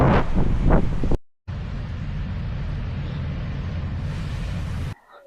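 Strong ocean waves rolling onto the beach at Boracay Island, a steady close roar of surf heavily buffeted by wind on the microphone, with a brief dropout partway through.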